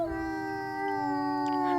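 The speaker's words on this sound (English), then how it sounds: "He's got a bit of a whiny howl," A bull elk in the video game WolfQuest gives a whiny, drawn-out howling call: one steady, sustained tone with rich harmonics that carries clearly over quiet game ambience.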